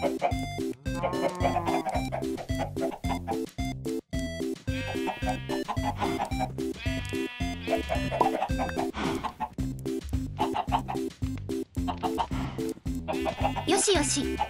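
Chickens cluck constantly in Minecraft, gathered in a stored flock inside a secret room. The busy clucking runs over a steady, rhythmic game backdrop with brief louder squawks.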